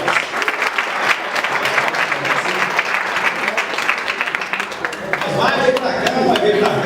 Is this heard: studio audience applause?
yes